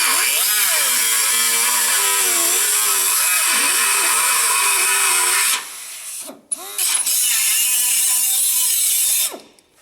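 Power tool cutting through an engine mount on the frame of an International Scout with an LS engine swap, a loud continuous high-pitched grinding whine that drops out briefly mid-cut, stutters, then resumes before stopping.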